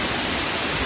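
Sekar Langit waterfall in Central Java roars as a dense, steady wash of falling water, loud and even throughout this brief moment with no other sounds.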